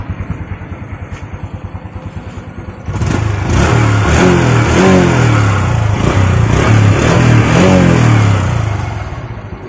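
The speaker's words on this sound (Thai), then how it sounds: "ก็เสียงท่อก็ประมาณนี้นะครับ รถเดิมๆ" A Honda Wave 125i LED motorbike with its stock exhaust idles close by in a steady putter, then revs up into a louder, sustained engine roar with rising pitch sweeps before easing back toward idle.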